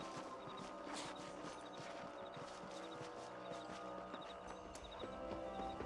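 Horse hooves clip-clop in a steady walking rhythm while riding in Red Dead Redemption, quiet and close, layered over a faint outdoor ambience.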